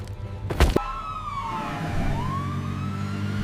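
A cartoon siren wails in a long rising and falling tone after a brief loud thump, steady and fairly prominent in the background.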